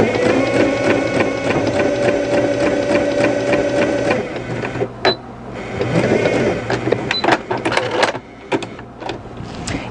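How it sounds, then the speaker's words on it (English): A sewing machine runs a straight stitch through felt for a child's felt toy food, whirring steadily with a ratcheting mechanical rhythm for about four seconds before stopping, followed by brief clicks and handling noises. "I'm actually going to run this straight stitch twice"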